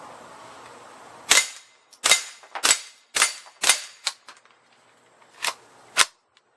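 Seven sharp, loud rifle shots from a Remington subsonic .22LR, fired in an uneven string with short pauses and a longer gap before the last two, with no talk.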